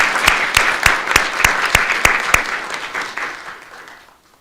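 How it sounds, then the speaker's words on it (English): A round of applause for the Seneca High School Color Guard at a United States citizenship ceremony. Crisp, rapid clapping from a crowd holds steady, then tapers off and fades out near the end. "Let's all give them a round of applause"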